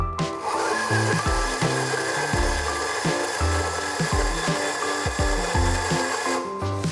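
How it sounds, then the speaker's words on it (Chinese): An electric coffee grinder with single and double dose settings chews through coffee beans, a loud, rough, continuous grinding with a rhythmic pulsing texture that starts abruptly and cuts off at the end. "我们现在开始演示这款磨豆机的研磨效果"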